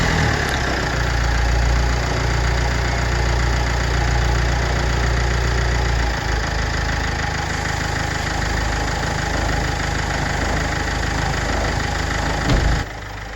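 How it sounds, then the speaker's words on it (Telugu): A Ford Fiesta engine idles steadily and loudly in a workshop during a ball joint job, with a wheel disc spinning on its own, a constant even hum and rumble without a break. "జస్ట్ ఇంజిన్ స్టార్ట్ చేస్తే ఆటోమేటిక్గా అలా తిరుగుతూ ఉంది"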